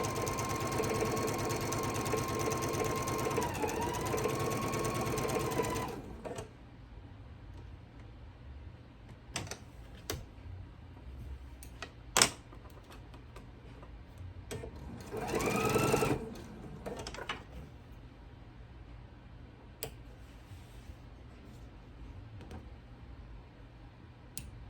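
A sewing machine stitches a straight line on quilt fabric, a steady mechanical hum for the first few seconds, then stops, leaving quiet handling clicks, taps and a brief rustle.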